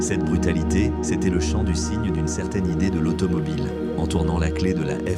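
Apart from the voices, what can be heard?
No everyday noise stands out behind the speech.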